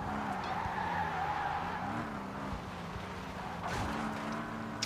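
Tires screech in a long, continuous skid as a car drifts in the driving game Car Simulator 2, with a steady engine drone and pitch sweeps as the slide shifts, loud and close throughout.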